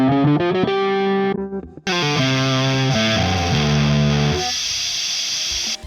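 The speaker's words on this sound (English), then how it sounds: "It's just when you particularly get into like distorted tones." A heavily distorted electric guitar plays sustained chords and notes, loud and buzzing, with a brief gap before another phrase rings out.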